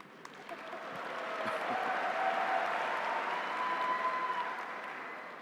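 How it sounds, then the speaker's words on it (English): Applause at a college commencement ceremony, faint, distant clapping from a large crowd that swells gradually, holds steady, and then eases off slightly, with no voices over it. "That first applause came from my wife."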